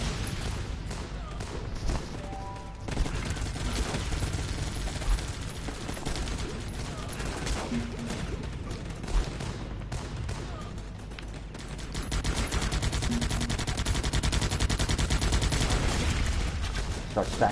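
Sharpshooter gunfire in the strategy video game Guns Up: rapid overlapping shots and bursts crackle through a busy battle soundscape, with a voice talking over it.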